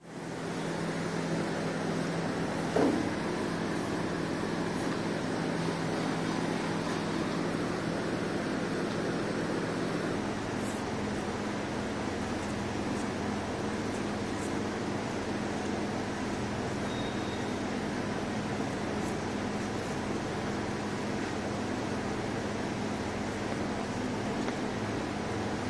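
A Videojet Willett 630 industrial inkjet printer, repaired after line and valve blockages, runs live with a steady continuous mechanical hum and hiss that stays even and close throughout, with no voices.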